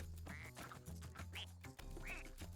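Cartoonish duck quacks from the Rayman Legends video game repeat several times in quick succession over busy game music, faint overall and with no talking.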